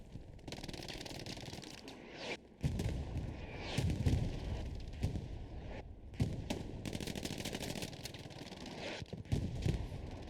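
Gunfire in the World War II shooter Hell Let Loose, bursts of sharp shots, some rapid and clustered, others spaced, with brief gaps of near silence, moderately loud against a busy battlefield background.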